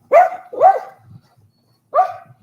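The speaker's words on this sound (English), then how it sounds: "What do I do with these damn dogs?" Dogs bark loudly and close by: two quick barks, a pause, then a third, alone with no talk.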